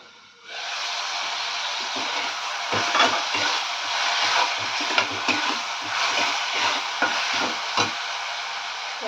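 Onion and tomato sautéing in a pan, a steady close sizzle starting abruptly and carrying on, punctuated by repeated stirring scrapes of a spoon.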